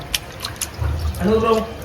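Rice grains are swished and rinsed in water up close, with sloshing, trickling and dripping sounds.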